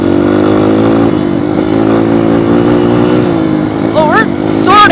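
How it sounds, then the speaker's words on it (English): A dirt bike engine held at high RPM on a trail ride, a loud steady drone that holds throughout, with a couple of rising revs near the end. "Just kinda get the bike warmed up. Well, probably is by now, but just like being in the high RPMs."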